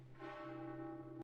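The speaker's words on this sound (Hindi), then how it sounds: "दूर चर्च से फिर घंटी की आवाज आई" A church bell rings once in the distance, a single sustained tolling tone with a long humming decay, heard alone and fairly faint before cutting off abruptly.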